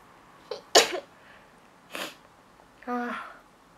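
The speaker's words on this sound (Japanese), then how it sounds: "あ、くしゃみ出る。" A single sharp sneeze bursts out in a quiet indoor room, briefly preceded by a faint breath and followed by a softer snort or short vocal sound, all close to the microphone.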